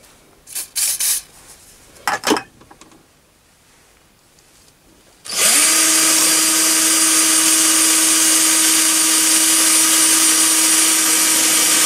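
A few short tool bursts and clicks, then a loud, continuous high-pitched whine of a finish drill on a Chinese mini lathe boring a roll pin hole runs steadily to the end.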